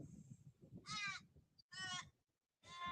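People imitate a crow's caw as a laugh, giving three harsh, nasal caw-like bursts separated by pauses, with low murmuring and breathy voices underneath.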